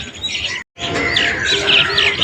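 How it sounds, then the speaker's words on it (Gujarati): Crows and mynas calling at a roadside hotel, a dense chorus of bright chirps and harsh calls up close, broken by a brief silent gap before resuming steadily. "કાગડા ને કાબરો જુઓ બધા સીવો નાખી અહીંયા હોટલમાં આવી ગયા."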